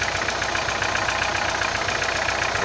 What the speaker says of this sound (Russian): Но зато двигатель ровно работает